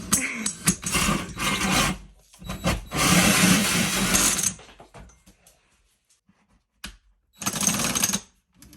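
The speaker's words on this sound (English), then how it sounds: "So we're trying to drill a hole for our dryer vent" Power drill boring a hole through the wall of a cabin in the woods for a dryer vent, with loud grinding bursts that start and stop, including a long spell of drilling midway and another near the end.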